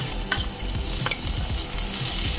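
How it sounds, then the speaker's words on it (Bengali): Two tablespoons of onion paste hit hot oil in a pan, with a steady close sizzle and frying hiss, plus a few light stirring scrapes, for a fish curry with pointed gourd. "এবার এখানে আমি দিয়ে দেব 2 টেবিল চামচ পেঁয়াজ বাটা"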